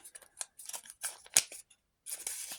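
Paper crinkling and tearing as a small surprise packet is opened by hand, with close, brittle rustles in uneven bursts, a sharp snap in the middle and a final scratchy tear.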